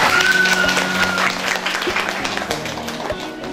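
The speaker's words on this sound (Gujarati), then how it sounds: "તાળીઓ તો પાડો." A crowd claps together at the results of an aarti thali decoration contest, sustained and fairly loud at first and then settling a little, with scattered voices mixed in.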